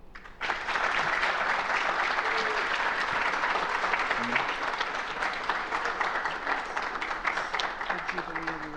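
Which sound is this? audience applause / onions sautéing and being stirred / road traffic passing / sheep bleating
audience applause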